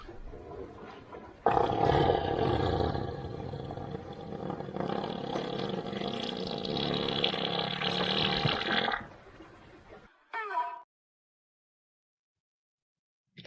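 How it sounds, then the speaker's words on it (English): An elephant breaking wind, played back from a recording: a long, loud rumbling roar with no break for about seven seconds, then a short burst, then silence. "Let's have an elephant farting."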